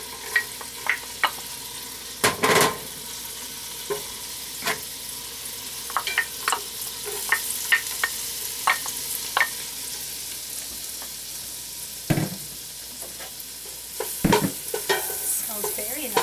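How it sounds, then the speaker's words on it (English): Garlic and onions sauteing in a pan, heard as a quiet, steady frying hiss broken by scattered sharp scrapes and clinks of stirring. "I'll be adding in the garlic and the onions now."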